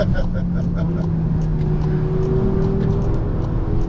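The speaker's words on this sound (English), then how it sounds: "We're still at full throttle." A VW Arteon Shooting Brake plug-in hybrid wagon held at full throttle on the Nürburgring, heard from inside as a loud, steady engine drone with a rising tone over road roar.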